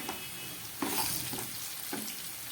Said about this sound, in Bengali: দিয়ে দিচ্ছি দুটো তেজপাতা। দিয়ে দিচ্ছি একটা কাঁচা লঙ্কা।